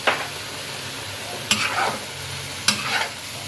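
A spatula scrapes and stirs cucumber stir-fry with egg and shrimp in a hot pan, with a few distinct strokes over a steady sizzle of frying, all close up and with no talking.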